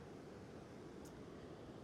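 Rain-swollen water surges after intense rainfall, a dense, continuous rushing roar that stays steady and fairly distant, with no voices.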